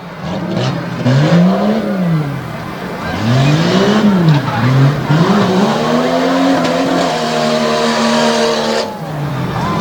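Two-wheel drive trucks racing on a dirt track, each engine revving and wailing up and down through the gears, loud and close, with passing roars and tire noise. The crowd and announcer sound is faint underneath.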